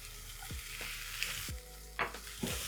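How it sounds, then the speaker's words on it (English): Fresh spinach is stirred into mushrooms frying for a vegetable omelette, a soft, steady sizzle from the pan with a few quiet scrapes of the utensil against the metal, fairly faint and with no talking. "So to my mushrooms, I'm going to add my spinach."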